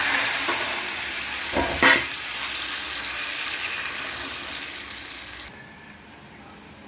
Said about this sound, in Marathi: तेल टाकलं बघा. त्यात हे हरभरे आपण भाजून घेऊ.